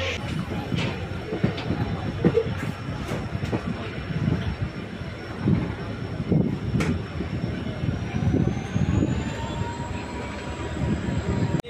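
Chalukya Express train running on the rails, a continuous rumble of wheels with rhythmic clatter and occasional squeal, heard from on board over steady background noise.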